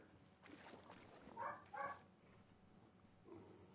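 A dog in a hunting video game's lodge setting gives a couple of short, faint barks and whimpers in the middle, with quieter yips trailing off afterward over a low background.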